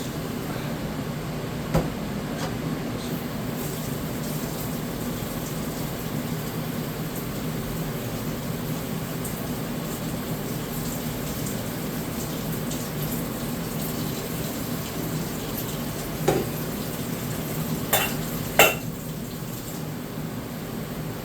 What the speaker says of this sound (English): Rinse off a little bit of that starch.